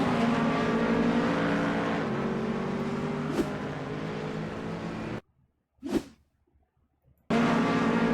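Race car engines roar loud and continuous in a racing video game with GT3 cars at the Nürburgring GP, then cut out briefly to near silence with a single swelling whoosh before the engine noise returns.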